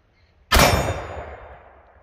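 A .400 Legend rifle fires a single round of factory ammunition outdoors, giving one sharp, loud boom that fades into a long rolling echo over about a second and a half.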